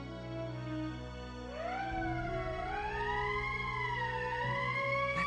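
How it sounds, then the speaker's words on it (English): A wailing emergency siren from the video game Valkyria Chronicles rises and falls in long sweeping tones over a steady droning background, growing louder and continuing throughout. "That's the emergency siren."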